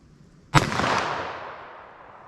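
A single sharp .357 Magnum gunshot firing Corbon 125 gr JHP ammunition at an outdoor range, loud crack followed by a long echoing tail that fades over about two seconds.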